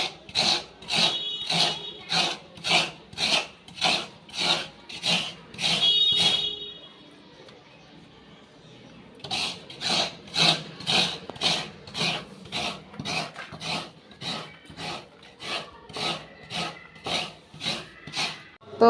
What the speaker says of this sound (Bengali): এখানে নারকেলটা কোড়াচ্ছে